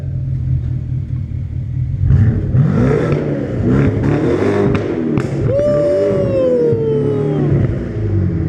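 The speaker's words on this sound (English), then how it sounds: "why don't you give us a few revs?" A twin turbo BMW V8 with a new down pipe and a muffler delete is revved hard and close, with rising and falling engine roars, whine and crackles over a loud running rumble.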